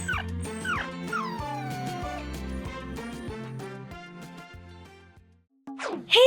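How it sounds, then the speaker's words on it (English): Pepe the puppy gives a string of high yips and short barks, interspersed with whimpers, over a soft musical background, then falls briefly quiet before a final sharp yelp. "I love Pepe, the puppy, and he loves me too"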